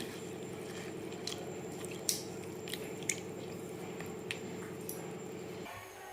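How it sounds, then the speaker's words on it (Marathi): Masoor lentils rubbed and washed by hand in water in a kitchen, soft squishing and wet swishing with a few sharper drips and clinks, close and fairly quiet before it stops near the end. "छान चोळून धुवायची आपल्याला आणि भिजायला ठेवायची नाही"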